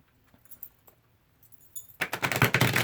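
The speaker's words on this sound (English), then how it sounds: "one more shuffle." Tarot cards shuffled by hand after a few quiet taps, a dense riffling flutter that starts abruptly and runs loud and close to the end.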